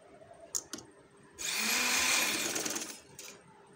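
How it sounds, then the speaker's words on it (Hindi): A sewing machine runs in one close, steady whirring burst of stitching lasting about a second and a half, with a few light mechanical clicks before and after it and no talking. "अब यहाँ पर सबसे पहले हमने थोड़ी सी सिलाई जो है ऊपर से नीचे की तरफ लगानी है"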